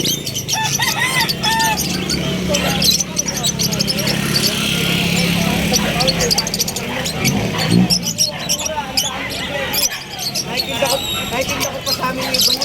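Assorted birds and chickens at a pet market in Bulacan, with crowing and scattered calls mixed into a busy, constant crowd chatter and market noise.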